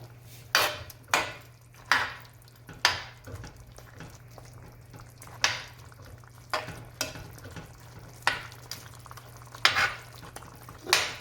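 Stew chicken is stirred in a pot, a spoon scraping and sloshing in a string of distinct strokes, some in quick pairs, over a low background hum.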